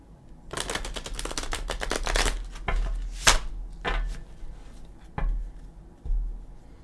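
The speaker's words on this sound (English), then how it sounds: "Oh, deck is so hard to shuffle that way." A deck of tarot cards being riffle-shuffled repeatedly, with fast fluttering bursts and a few soft taps between, close by.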